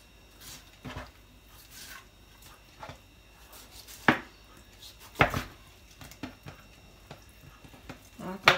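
Irregular knife chops thud on a cutting board as duck meat is minced, single sharp strikes spaced a second or so apart, close and fairly loud, with quiet handling sounds between.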